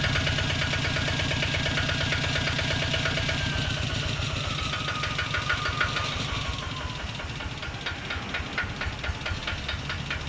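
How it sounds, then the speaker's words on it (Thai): A Kubota ZT110DI Plus single-cylinder diesel engine idles steadily, its rapid even knocking chugs loud and close throughout with a faint whine, and no one speaks. "นี่ก็เสียงเครื่องเดินเบานะครับ นิ่มมากครับ"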